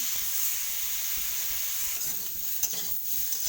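Goat meat with turmeric being stirred as it fries in a pan: a soft, even hiss of sizzling with scattered light scrapes and one sharper knock, fairly quiet and free of speech.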